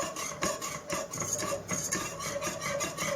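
Flour stirred into hot oil in a pan for Egyptian mafatka, a continuous close scraping and rubbing of a spoon against the pan in rhythmic strokes.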